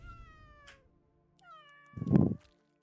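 A cat unit in the tower-defense video game Legion TD 2 meows, two drawn-out, falling cries, the second ending in a louder, rougher yowl, heard alone over a low game hum.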